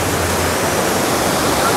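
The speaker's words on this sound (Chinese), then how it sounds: "终于到处女瀑布了" The Chunu waterfall in the Manyueyuan forest recreation area pours in a constant, loud, full-bodied rush heard up close, with no break and no voices.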